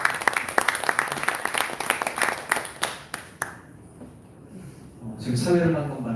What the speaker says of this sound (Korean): 우리 박은수 대표님 나오셔서 여러분들께 좋은 말씀 전해주실 때 큰 박수 환영해 주시기 바라겠습니다